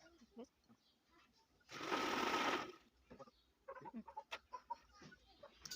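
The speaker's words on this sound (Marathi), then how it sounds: "व्यवस्थित पकडून आपल्याला लांब साईडला पहिल्यांदा टिप मारून घ्यायची आहे" Sewing machine stitches the layers of a godhadi, a traditional patchwork quilt, in one loud, steady burst of about a second. Someone talks before and after it, and a few faint clucks may come from nearby chickens.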